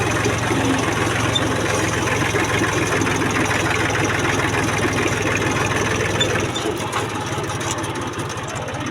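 A tractor engine runs steadily in a farm field, a loud, close, continuous chugging drone that drops slightly in pitch and level near the end, with no talk.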